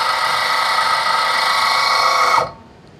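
A damper actuator motor whirs steadily with a bright mechanical hum, then abruptly cuts out near the end as it stalls against an obstruction in the close direction, leaving near silence.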